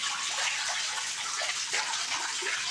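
Continuous water flowing through a catfish fry tank in a flow-through culture system, a steady broadband gushing and trickling close by, alone with no talk.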